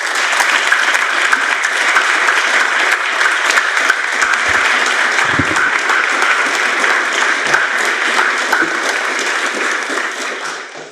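Sustained audience applause welcoming Senator Sheldon Whitehouse to a climate change event, a steady, loud wash of clapping from a full room that holds evenly for about eleven seconds before starting to fade.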